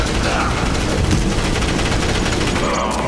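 Rapid automatic gunfire from a Borderlands 3 firefight, loud and continuous bursts with dense overlapping shots and impacts.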